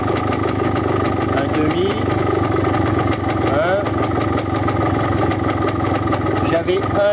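A motorcycle engine idles steadily and loudly throughout while its air screw is being adjusted, with someone speaking briefly over the running engine.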